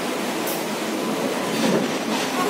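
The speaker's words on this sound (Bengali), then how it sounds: "এই দেখ দুদিকেই ট্রেন" A train rumbles past steadily, its wheels clattering on the rails, with a continuous broadband roar that swells slightly midway.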